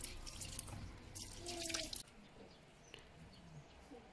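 Freshly picked wild mushrooms rinsed under running tap water, a soft splashing, dripping stream that grows a little busier before suddenly easing into quieter trickles and drips.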